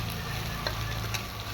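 Chopped egg sautéing in a pan for egg fried rice, a soft steady sizzle with a low hum beneath and a couple of brief scraping stirs, faint and close.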